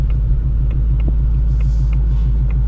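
Whipple supercharged Ford Mustang Dark Horse with a manual gearbox cruising, its engine a deep, steady rumble heard from inside the cabin, loud and continuous with no voices.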